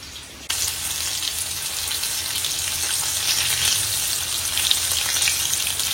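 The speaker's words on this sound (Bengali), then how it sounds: "এরপর আমরা আস্তে আস্তে আরেকটা পিস ভেজে দেবো" A quiet moment, then sudden loud sizzling as a chicken piece drops into hot oil in a pre-seasoned cast iron pan, crackling steadily to the end.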